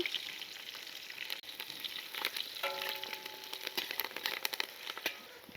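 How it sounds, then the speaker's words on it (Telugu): Sliced onion, green chillies and curry leaves frying in oil for Andhra fish dum biryani, a steady close sizzle with crackling pops and a few faint clinks, no voices. "ఒక ఉల్లిపాయ చీలికండి, ఒక 8 పచ్చిమిర్చి చీలికలు, ఇవి కూడా కొంచెం వేపుకుందాం"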